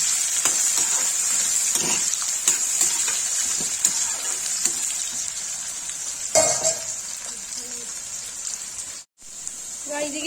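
Okra and onions frying in hot oil with cumin, a bright continuous sizzle with scattered stirring scrapes and clicks close up, broken by a brief gap near the end.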